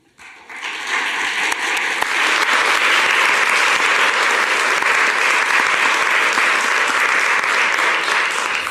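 An audience applauds after Prof. Paco Calvo's lecture on plant intelligence, dense sustained clapping swelling in quickly and holding loud and steady to the end, with no talking over it.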